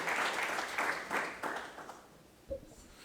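Scattered applause from a conference audience fades out gradually as a speaker takes the stage, a few bursts of clapping thinning into quiet, followed by a single dull bump near the end.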